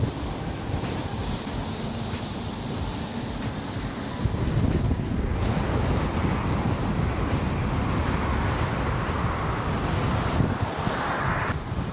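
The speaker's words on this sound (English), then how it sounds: "It's so much wind that I jumped on the sidewalk." Strong wind of about 20 miles an hour buffets the microphone of a rider on a KingSong 18L electric unicycle, producing loud, constant low roaring gusts that swell even heavier partway through.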